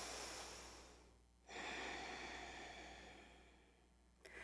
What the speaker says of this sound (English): If you have Ujjayi breath, and can start breathing in and out of your nose with a slight constriction in your throat on your exhale.